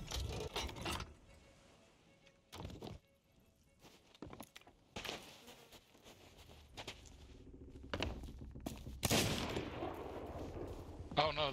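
Cannon fire during a ship battle in the pirate video game Sea of Thieves: several sharp, loud booming blasts at irregular intervals, with fainter rumbling and clatter between them.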